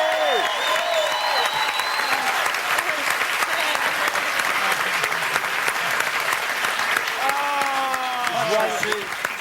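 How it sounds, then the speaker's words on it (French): Studio audience applause on a French-language television game show, loud and continuous clapping from a large crowd throughout, with a host's voice and tonal music sounding over it at the start and end. "Est-ce qu'on peut les applaudir"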